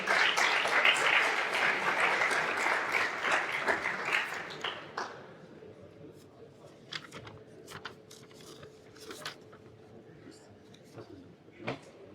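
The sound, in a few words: audience applause welcoming a guest onto the stage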